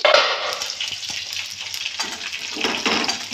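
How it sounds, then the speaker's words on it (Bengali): Chopped onion and cumin fry in a pan with a steady close sizzle, a louder crackling burst at the start and again near the end. "পেঁয়াজটা ভালো করে ভাজা ভাজা হয়ে যায়"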